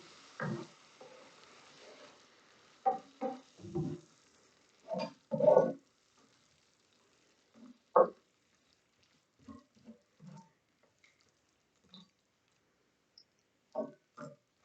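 A spoon stirring chili seasoned with garlic powder in a pot, making soft intermittent scrapes and clinks with pauses between strokes, close and fairly quiet.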